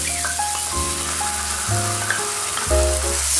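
A chilli paneer sauce with tomato ketchup and vinegar being stirred in a pan, with continuous sizzling and clinking, scraping stir strokes up close, over a faint tonal hum and without talk.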